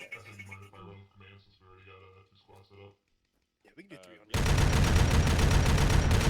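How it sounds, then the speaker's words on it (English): Dense, loud automatic gunfire erupts suddenly in an ARMA 3 spawn area after a stretch of radio-filtered voices talking, the shooting continuing steadily to the end. "Stop shooting. Why are you Hey, yo, shooting?"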